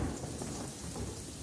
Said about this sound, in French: il se mit à pleuvoir